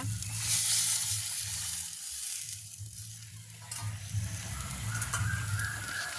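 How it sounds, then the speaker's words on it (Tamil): Onions and chillies sautéing in a pan for a village-style fish curry, giving a steady close sizzle with faint stirring noises throughout, no talk. "இப்போ எங்களுக்கு வெங்காயம் மிளகாய் வதங்கி கொண்டு வருது"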